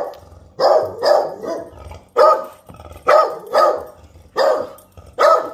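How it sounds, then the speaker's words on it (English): A dog barks outside a studio set in autumn woods, with deer nearby: eight loud, close barks in uneven pairs and singles across a few seconds, no talking. "Diesel, could you quit barking?"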